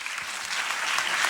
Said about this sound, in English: Ladies and gentlemen, let's give them all a well round of applause.